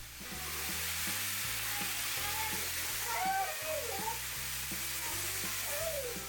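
Squid with bean sprouts and garlic chives stir-fry in a hot pan, a steady, loud sizzle throughout, with faint musical notes running underneath.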